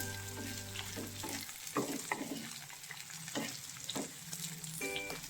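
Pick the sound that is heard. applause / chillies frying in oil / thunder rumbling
chillies frying in oil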